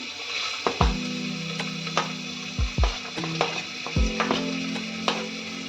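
Garlic paste and chopped onion fry in white oil, with a steady sizzle, a low hum, and repeated sharp scrapes and knocks of a spoon stirring against the pan, heard up close.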